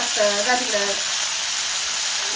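Chopped radish frying loudly in hot oil in a pan, a steady close hiss and sizzle, with a brief voice at the start.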